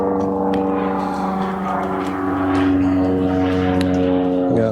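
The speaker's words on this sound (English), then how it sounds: "Got airplanes flying over every which way" Steady droning hum of airplanes passing overhead above a lake, a continuous tonal engine sound that swells slightly, heard alone on a fishing trip.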